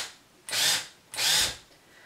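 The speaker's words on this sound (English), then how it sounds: "And now when I go to drill," A power drill bores through roller-shade fabric in two short whirring bursts with brief quiet between them, close and steady.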